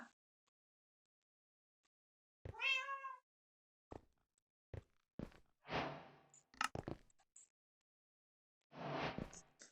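A cat in a Minecraft game meows once in a clear, bending cry, followed by scattered clicks and bursts of game noise between long silent gaps.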